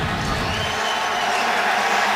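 A dense, loud roar from a football stadium crowd cheering at a New Orleans Saints home game against the Buccaneers, sustained and unbroken, with a broad wash of many voices.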